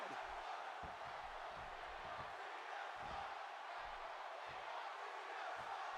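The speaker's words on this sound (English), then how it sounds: "And listen to this crowd" Video game arena crowd in WWE 2K16 cheering during a wrestling match, a steady faint roar with rhythmic thumps underneath, sustained throughout at low level.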